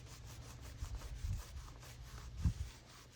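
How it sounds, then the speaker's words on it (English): A cloth dampened with denatured alcohol is rubbed along the lower belt line of a Monaco motorhome, giving quiet, soft back-and-forth scrubbing strokes with a couple of firmer swipes and no talk. "using that denatured alcohol, just clean it up, cleaning the surface so we could put some new caulk down"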